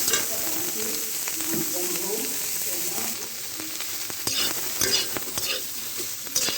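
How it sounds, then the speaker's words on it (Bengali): Soybean chunks fry in a pan, with a steady sizzle under repeated scraping and stirring clicks of a utensil, close and moderately loud. "সয়াবিনগুলো ভালোভাবে ভেজে নিতে হবে।"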